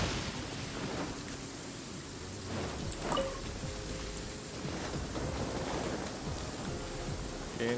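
Rain in the Genshin Impact video game falls steadily in a dense, continuous hiss and patter, with a few brighter drips and faint rumbles mixed into the even downpour.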